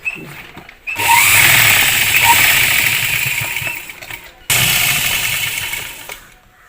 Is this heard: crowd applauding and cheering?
no